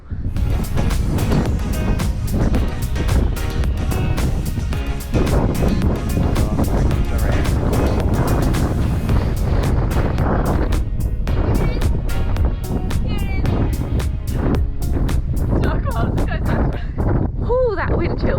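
Strong wind roars across the exposed summit of Mount Wellington in Hobart, Tasmania, a loud continuous buffeting rush against the microphone throughout, with voices talking underneath.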